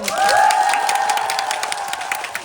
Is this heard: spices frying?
no